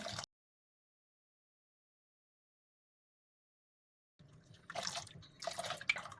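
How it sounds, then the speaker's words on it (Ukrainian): About 150 ml of nearly boiling water poured into a thin crepe batter: after a long silence, a short burst of close liquid splashing and trickling, with no talk. "ми беремо 150 мл гарячої води, майже окріп, і додаємо в наше тісто"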